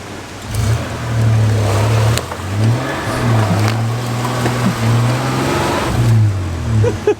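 A 1990s 4x4 truck engine revs hard and close, with a throbbing, wavering drone that rises and dips in several surges, as if the truck is straining to move, with no talk over it.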